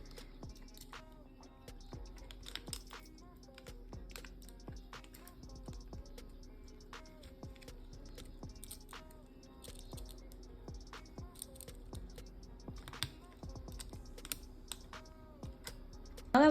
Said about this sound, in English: we're gonna unscrew these little screws here